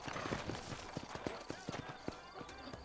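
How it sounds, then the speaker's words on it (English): Horse hooves clip-clop at a steady walking rhythm in the Red Dead Redemption video game, a run of close, distinct hoof strikes over a bed of ambient background sound. "Vamos a montar un caballo."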